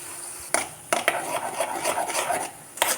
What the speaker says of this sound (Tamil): நான் கிண்டி விட்டுட்டே தான் இருக்கேன்.